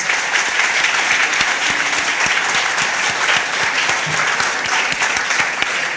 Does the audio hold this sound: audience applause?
yes